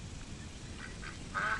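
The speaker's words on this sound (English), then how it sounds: "That duck quacked right at my swing." On a golf course in EA Sports PGA Tour, a duck quacks a few times, faint at first and then a louder, nearer quack at the end over quiet ambient background.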